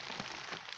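Rain falling outdoors, a dense steady patter of drops on surfaces, close and even throughout a short moment.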